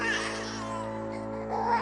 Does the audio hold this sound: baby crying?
yes